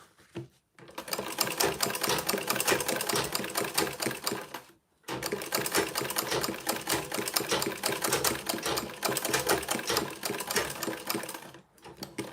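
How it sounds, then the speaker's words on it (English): A sewing machine stitches a leather bag at a 1/4-inch seam in two long, loud, continuous runs with a short pause between them, close by, with no talk. "I'm sewing with a 1/4 of an inch"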